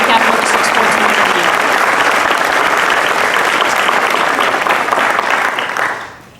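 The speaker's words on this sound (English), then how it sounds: "So a big round of applause for Mr. Eric McDowell, the president of the Capital District Sportswomen of" Loud, sustained applause from a banquet audience honoring a sportswomen's organization president at an awards evening, dense clapping holding steady for several seconds before tapering off at the end.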